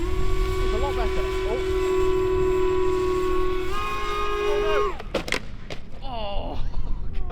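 A giant gyro-effect RC plane drones steadily with a high motor whine in gusty wind, then the pitch drops and it hits the ground in a pair of sharp impacts. Excited voices follow after the crash.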